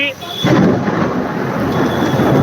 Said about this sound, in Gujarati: અમારે ખંભાળિયામાં તો જોરદાર વરસાદ પડી રહ્યો છે